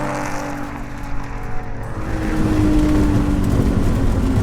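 A Nissan R32 GTR and a Subaru Impreza race in a roll race, their engines roaring loud and close, a steady droning howl that builds in strength partway through, with no talk.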